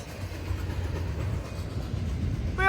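Norfolk Southern intermodal freight trains pass by in a low, steady rumble of rolling cars with faint rail noise, and a brief horn-like tone sounds at the very end.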